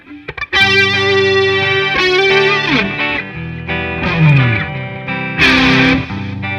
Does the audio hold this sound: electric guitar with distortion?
yes